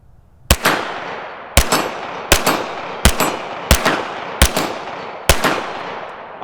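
Seven sharp pistol shots from a Sig Sauer P365-Flux fired at an irregular pace over about six seconds, each a loud close crack with a short ringing decay, and no talking.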